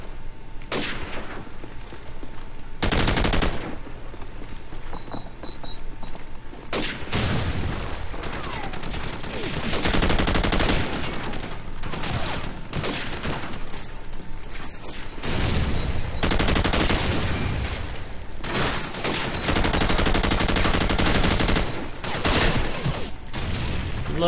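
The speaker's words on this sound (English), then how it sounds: "Love shooting fucking air, it seems." Rapid gunfire and heavy booming shots from Call of Duty 4 multiplayer, loud bursts and sustained volleys repeating across a long stretch with little pause.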